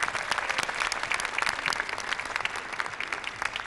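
A Turkish audience applauds a taxi-themed comedy act in a dense, steady wash of clapping that holds for several seconds with no talk over it.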